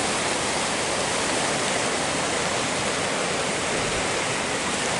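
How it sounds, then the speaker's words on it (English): Cascade River rushing where it feeds into Lake Superior at Cascade River Falls, a loud, unbroken roar of falling and churning water, steady and close with no pauses or voices. "Looking at the river as it feeds into Lake Superior."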